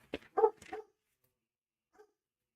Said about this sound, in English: hopefully you can't hear my dog